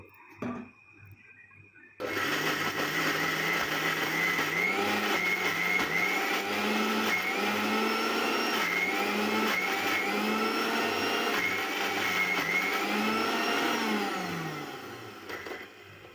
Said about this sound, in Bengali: এখন আবার অল্প একটু পানি দিয়ে দিব, তারপর আবার ব্লেন্ড করে নেব।